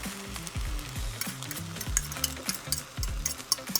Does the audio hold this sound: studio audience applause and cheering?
no